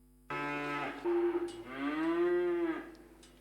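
Imported cows at a livestock farm give two long, drawn-out moos, the second louder and rising, heard close with no talking.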